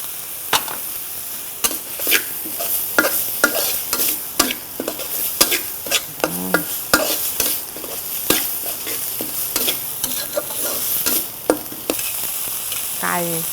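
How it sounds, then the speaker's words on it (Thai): Curry paste stir-fries in hot oil in a wok, with a steady sizzle broken by repeated sharp scrapes and clinks of a spatula at an irregular rhythm, close and loud with no voices. "ใส่พริกแกงเลยค่ะ ผัดพริกแกงให้หอม ประมาณ 2 นาที"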